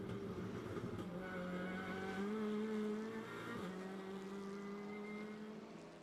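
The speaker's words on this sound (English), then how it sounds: "We will listen to the noise, the sound of the car." An onboard view of a TCR touring race car on a flying qualifying lap at Rosario: the engine drones continuously and fairly faintly, its pitch climbing through gears with brief shifts, and no talk is heard.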